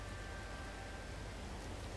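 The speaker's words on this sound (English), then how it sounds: "And painfully hot rain, yes, thank you, game." Steady, even hiss of hot rain falling in the video game No Man's Sky during a storm, a dense wash of droplets with no voices.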